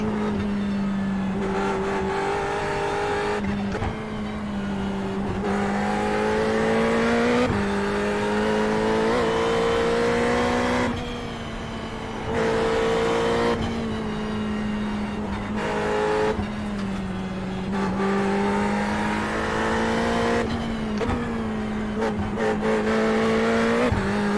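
A race car engine revs continuously at high pitch, the tone rising and dropping with gear changes and brief throttle lifts, loud and close throughout.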